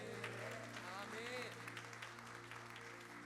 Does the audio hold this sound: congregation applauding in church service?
yes